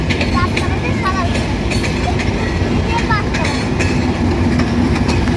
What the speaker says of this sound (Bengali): তো এই যে ট্রেনটা যাচ্ছে, আর ওই যে সামনে ওই যে স্টেশনে ঢুকছে ট্রেনটা।